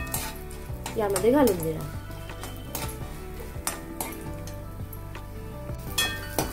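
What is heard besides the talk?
almond and cashew pieces frying in ghee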